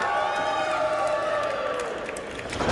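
Wrestling fans at a Pro Wrestling Union event give a loud, sustained crowd roar of cheers and whoops, steady throughout with a voice calling out over it.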